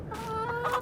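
Chickens in a small pen in Farming Simulator 22 give a short run of soft, close clucking, a brief tonal burble with no talk over it.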